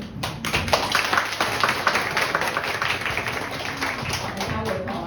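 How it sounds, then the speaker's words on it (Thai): A church congregation claps to welcome first-time visitors at a Sunday worship service, a dense, steady patter of many hands close by that lasts throughout. "เชิญท่านยืนขึ้นนะคะเราจะปรบมือต้อนรับนะคะ"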